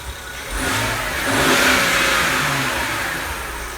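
A BMW E61 wagon engine, before dual cone intakes are fitted, revs up from idle in one smooth, loud rise and eases back down, close by with no talk.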